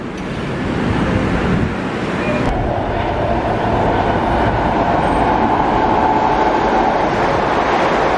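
An eastbound diesel train rolls past on a railroad in Bellmore, a loud, steady broadband rumble and rail noise that holds for the whole stretch at close range.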